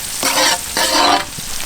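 Onion and tomato cook in butter for a spicy lobster gravy, with loud, close frying hiss rising in two long stirring sweeps and then a quieter sizzle.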